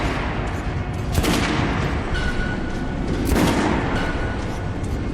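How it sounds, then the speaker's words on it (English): Two sharp gunshot blasts ring out against an armored training dummy on a shooting range in Metro Last Light Redux, spaced about two seconds apart over a constant rumbling background. "Shoot the armored dummy."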